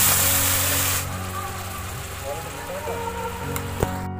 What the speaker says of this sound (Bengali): দেখুন গুড়টা ফুটে উঠেছে আর কত সুন্দর লাগছে দেখতে।